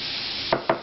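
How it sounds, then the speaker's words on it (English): Vegetables sauté in a pan with a steady close sizzle, broken by two quick utensil taps as they are stirred. "we're going to saute those until they're soft"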